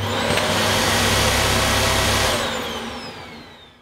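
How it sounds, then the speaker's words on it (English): A Dyson Ball Animal Multifloor vacuum cleaner runs with a loud, steady whirring roar up close, then spins down and fades over its final second or so. "To turn the cleaner on, press the red button."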